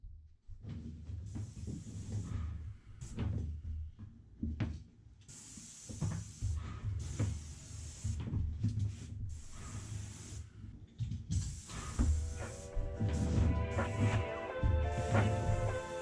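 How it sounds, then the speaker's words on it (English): Paint sprayer hissing in repeated short bursts onto kitchen cabinets being refinished from dark maple to white, moderately close, with a tonal mechanical whine rising near the end. "we're pretty much ready to spray"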